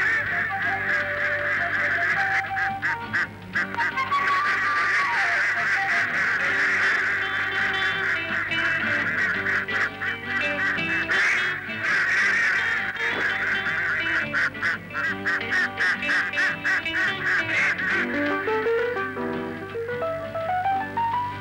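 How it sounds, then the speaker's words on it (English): Farm ducks on a kibbutz quack in loud, busy overlapping bursts throughout, a dense flock chorus close by with no talk. "The ducks will soon be eaten."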